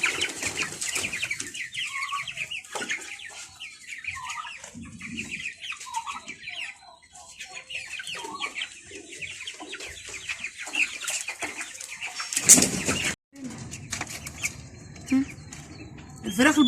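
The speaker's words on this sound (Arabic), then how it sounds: "وعندنا شويه فراخ بيضه هوريهم لكم دلوقتي برده." White chickens cluck and murmur in a large poultry room, with repeated close calls over a busy barnyard background and a louder burst near the end.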